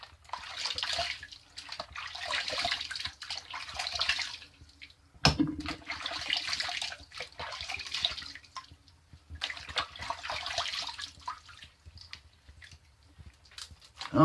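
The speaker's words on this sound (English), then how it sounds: "Okay, that was the warm water rinse." Warm water runs from a bathroom tap for a post-shave rinse, close by in several splashing bursts broken by short pauses as hands move through the stream.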